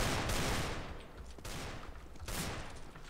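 Rapid gunfire in the video game CS:GO comes in three loud, dense bursts about a second apart, each fading briefly before the next volley.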